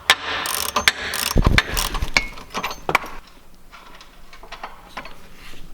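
Ratchet turning while plugs are removed from a Ferrari exhaust, rapid clicking and mechanical rattling in bursts that are loud at first and then quieter, close by.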